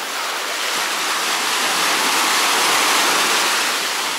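Rough sea waves at Cleopatra Beach in Alanya, Turkey, a dense continuous roar of surf washing in close and loud, swelling slightly midway, with no voices.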